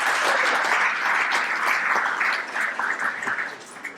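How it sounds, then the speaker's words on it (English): Luncheon audience at a chamber of commerce event breaking into a burst of dense applause, many hands clapping together loudly at first and then thinning and tapering off toward the end. "So give yourself a round of applause for that"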